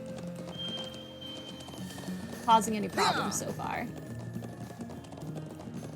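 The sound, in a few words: horse hooves galloping, from video game Trails of Cold Steel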